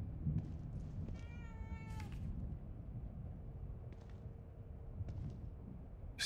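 Cat in the video game The Evil Within 2 lets out one drawn-out meow over a steady low ambient rumble, with a few scattered clicks and taps around it.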